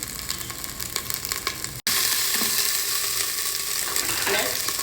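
Mustard seeds, cumin seeds, grated ginger and chopped green chilli sizzling in hot oil in a Solara Magic Pot, a loud steady crackling fry broken by a brief gap, then resuming stronger with faint stirring.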